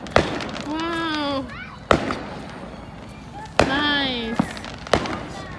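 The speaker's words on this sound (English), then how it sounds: "What fireworks, guys." Fourth of July fireworks bursting overhead, four sharp booms spaced a couple of seconds apart with whistling crackle trails between them, while people cheer and talk excitedly nearby.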